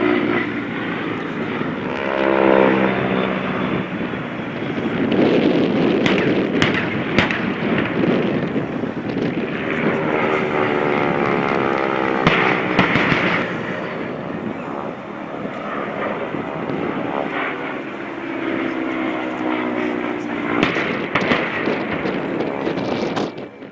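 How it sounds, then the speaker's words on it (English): AT-6 warplanes make low passes at an airshow with low-altitude bomb-drop pyrotechnics, a loud, sustained propeller-engine roar rising and falling as they pass, with wind buffeting and a few sharp bangs. "the air show to get underway, which begins with a couple of AT-6s doing some low-altitude bomb drops"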